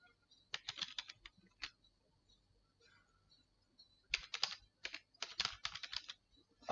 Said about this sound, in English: So I type Director IRIMEE.